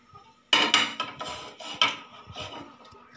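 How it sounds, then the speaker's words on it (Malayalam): A frying pan set down on a gas stove, giving a few sharp metallic clanks and scrapes that fade, close up with no talk. "എന്നിട്ട് നമുക്ക് നമ്മുടെ പാൻ എടുത്ത് വയ്ക്കാം."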